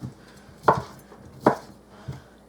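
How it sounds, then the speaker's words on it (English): A knife chops sausage into big chunks on a board, three distinct close thuds spaced about a second apart, clean and isolated. "now I got my sausage over here, and I'm just going to chunk this in chunks"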